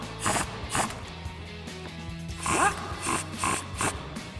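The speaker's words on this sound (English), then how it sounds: "we'll grab our 10mm socket to tighten these down" Socket ratchet tightening 10mm bolts on front strut spacer brackets of a 2007-2023 Silverado or Sierra 1500 truck, with short repeated clicking bursts at a steady rhythm, close and moderately quiet.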